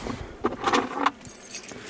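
Keys jangle in short metallic bursts close by as they are fished out of a bag, several quick clinks with pauses between, no speech.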